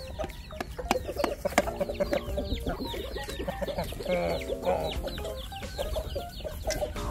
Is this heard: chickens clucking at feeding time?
yes